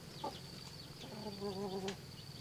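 Chickens at a farm in a forest give a few soft clucks and a short, slightly wavering call, fairly close, over a faint background of insects.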